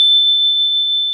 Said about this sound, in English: Oh, that's my smoke detector.